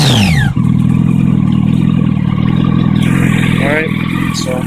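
A Yamaha R1 motorcycle engine idles steadily after a cold start, a loud, close, even rumble that holds for several seconds with a brief rise in pitch near the end.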